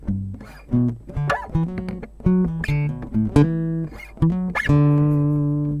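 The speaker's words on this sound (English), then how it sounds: "that's not going to stop me from creating something new with my electroacoustic guitar right here" Plucked guitar chords ring out in a loose, syncopated rhythm, each strum decaying briefly before the next, played alone and up close.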